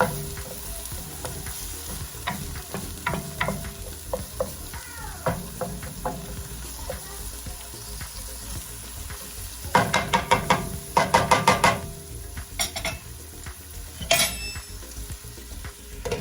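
Onions frying in oil in a pan for lasagna, with a steady low sizzle and bursts of spoon scraping and stirring clatter toward the end, fairly close with no talk.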